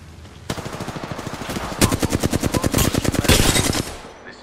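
Rapid automatic gunfire in Apex Legends, loud and close, with a steady stream of shots that speeds up into denser bursts midway before stopping abruptly.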